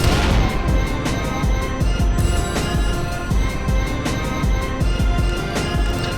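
Heavy combat in Wanted: Dead on PS5 comes through loud and close, with a grenade blast among rapid booming gunfire and repeated explosive thuds.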